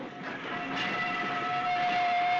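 Interior of a moving passenger train bound for Fort William, a steady broadband rumble of wheels and carriage noise with a sustained tonal whine running throughout, fairly constant and close, no speech.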